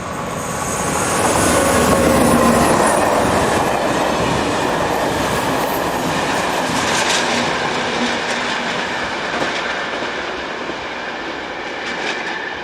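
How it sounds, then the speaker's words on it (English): The 17:50 La Rochelle to Bordeaux train rolls past in France, a steady loud rumble of wheels and clattering rail joints with faint squeals, the A837 motorway somewhere in the background. "This is the 1750 La Rochelle to Bordeaux."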